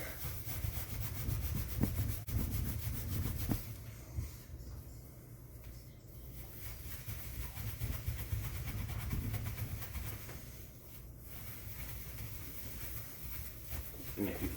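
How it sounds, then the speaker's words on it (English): An oven interior being scrubbed with a baking soda paste, a continuous close rubbing and scraping that eases off briefly in places, under a low background rumble. "use the leftover baking soda and really scrub all the parts of the oven"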